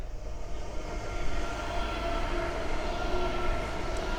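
Class 307 electric multiple units pass along the East Coast Main Line at Great Wymondley, a steady, continuous rumble of wheels and traction noise that holds loud and even throughout, with no talk over it.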